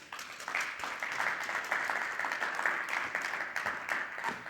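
An audience applauds at a business and commercial banking dialogue after a talk ends, a steady, even wash of many hands clapping, moderately distant and fairly soft, with no speech over it.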